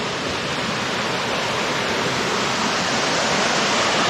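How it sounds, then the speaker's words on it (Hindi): A waterfall at Jalpari Point in Mainpat roars in a continuous, dense broadband rush, close and steady throughout, with no voices over it. "तो देखिए ये झरना बहते हुए सामने की तरफ जा रहा है"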